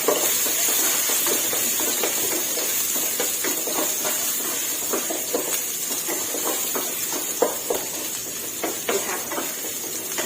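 Garlic fries in hot oil in a wok or pan, a steady close hiss and sizzle with scattered sharp crackles and clinks of a spatula stirring, no talking.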